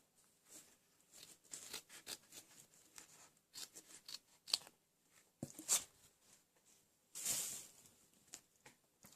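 Scissors snip around a circle traced from a cap on a piece of material, making a run of soft, irregular close cuts and rustles with a few sharper clicks and a brief brushing swell near the end.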